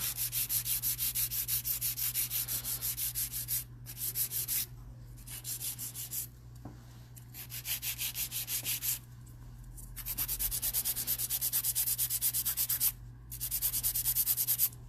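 A hand file tapers and shapes a long gel nail from the sidewall to the free edge, making rhythmic scratchy rasping strokes in short bursts with brief pauses, close up and quiet.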